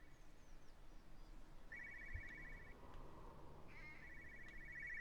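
A telephone rings in the video game Everybody's Gone to the Rapture, giving two bursts of fast electronic trilling at moderate volume over a quiet ambient bed.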